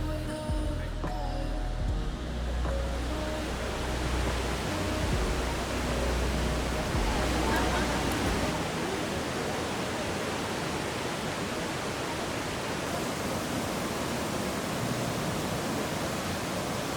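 Kegon Falls in Japan roars from its base as a dense, steady wash of falling water that masks everything else.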